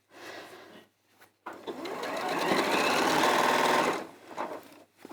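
A domestic sewing machine runs a steady continuous stitch around the top of a Liberty-fabric project for a few seconds, a close mechanical whir starting after a brief pause, then slowing and stopping.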